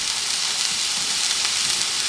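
Butter melts in a preheated pan, giving off a steady, close sizzling hiss with faint crackles and no one speaking.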